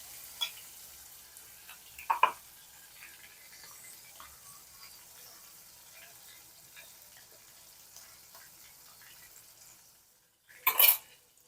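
Crushed tomatoes cook in a pan for a Gujarati muthiya vegetable dish, with a quiet, steady simmer, a couple of soft utensil clinks near the start and a brief louder scrape near the end.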